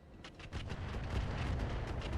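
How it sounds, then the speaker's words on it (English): In RogueTech, artillery fire strikes a Pendragon mech: faint, rumbling explosions that build after a quiet start into a rolling low boom with scattered sharper cracks. "So we get some artillery damage in there."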